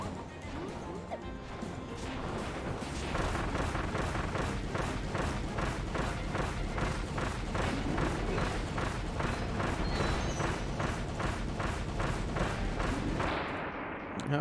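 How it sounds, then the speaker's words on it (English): A rapid, steady series of bomb blasts hits a tree boss in the Kirby and the Forgotten Land video game, with dozens of evenly spaced thumps lasting over twelve seconds before stopping abruptly. "It just hucking bombs right in front of its face the whole time."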